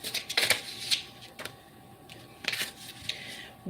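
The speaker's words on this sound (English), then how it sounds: "Let's do 2 more shuffles." Tarot cards are shuffled by hand in quick, crisp riffles and soft slaps, a few separate bursts close to the microphone against a quiet room.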